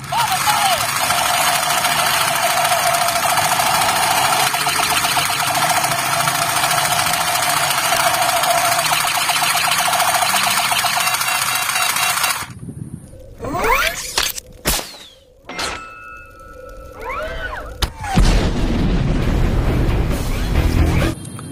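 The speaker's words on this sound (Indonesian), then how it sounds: "Tembakan Iron Man." An Iron Man toy gun plays its shooting effects: a long, buzzy electronic whir gives way to a string of short bursts and sweeping synthetic tones, loud and close.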